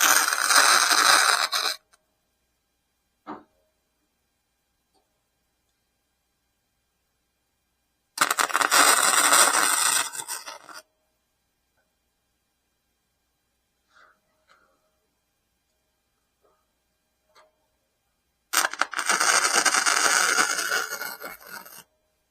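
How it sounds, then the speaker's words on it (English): Tack welding on a steel bench: three separate bursts of crackling, hissing arc noise, each a couple of seconds long, separated by quiet gaps with faint clicks and handling sounds. "Gonna put a couple tacks on this before we actually get into the weld of it."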